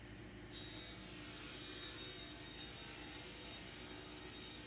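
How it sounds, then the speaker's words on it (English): A saw cuts through 1/4 inch plywood for a cabinet shelf in a camper van conversion, a steady, dense rasping whine starting half a second in and holding evenly throughout, fairly faint overall. "we're going to cut our 1/4 inch plywood to fit into that dado to make our shelf across here"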